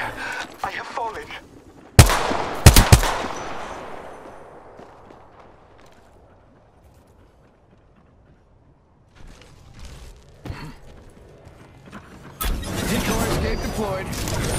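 Gunfire in a shooter video game: a sharp, loud burst of shots with a long decaying echo, then quiet, then scattered shots and a dense rattling barrage of rapid fire at the end.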